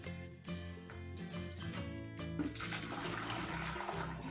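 Hot sparge water is poured from a jug during home brewing of a double IPA, a steady, close, continuous watery rush lasting a few seconds.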